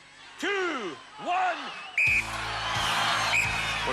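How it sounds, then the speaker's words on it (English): A referee's sharp whistle blast starts a contest on the 1992 UK Gladiators TV show, sounding loud after shouted voices, with a second brief blast moments later over a noisy, cheering arena crowd. "Karen, you will start on my first whistle."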